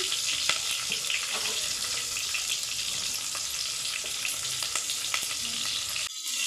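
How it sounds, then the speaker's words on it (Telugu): Sliced onions and curry leaves fry in hot oil in a pan for vegetable rice, a steady bright sizzle with crackles and pops throughout, alone and close, cutting off abruptly near the end. "ఉల్లిగడ్డలు వేసినానండి కొద్ది కరేపాకు వేద్దాము"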